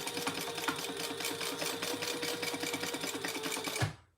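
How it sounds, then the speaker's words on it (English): Sewing machine stitching down the sides of a wallet, a fast steady mechanical whir with rapid rhythmic needle clatter, close and continuous before stopping abruptly at the end. "now sew down the sides"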